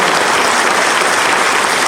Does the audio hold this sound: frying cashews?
no